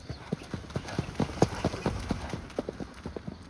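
Hooves of a young trotting horse clip-clopping at Vincennes racecourse, a quick, steady run of sharp close hoofbeats over a constant background rumble.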